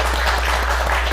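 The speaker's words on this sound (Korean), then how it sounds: "큰 박수로 맞이해 주시기 바랍니다" An audience at a Songpa youth forum applauds a speaker coming up, with brief, dense clapping over a steady low hum.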